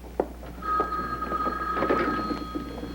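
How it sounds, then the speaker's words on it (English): A telephone rings faintly in a 1980s television soap opera scene, a steady electronic ringing tone heard once over a quiet room background with no speech. "excuse me, I'll get the phone"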